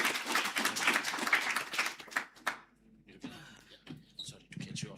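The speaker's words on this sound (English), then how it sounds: "Let's give him a round of applause" An audience at a live-streamed regenerative-futures conference claps in a quick burst for about two and a half seconds, then the applause thins into scattered claps and nearby voices.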